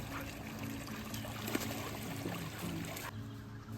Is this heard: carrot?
no